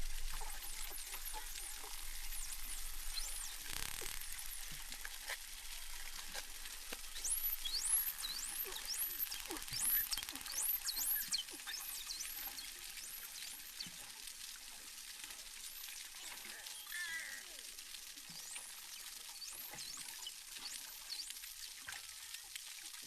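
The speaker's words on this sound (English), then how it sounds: "that was the sounds of our Burrunan dolphins using their echolocation under the water" Burrunan dolphins echolocate underwater, a steady faint hiss dense with rapid clicks and scattered high chirps and whistles, continuous for about twenty seconds without any speech.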